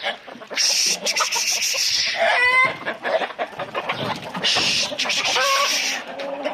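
Busy clucking from a group of chickens, with a rooster's louder calls breaking through twice amid rustling and movement close by.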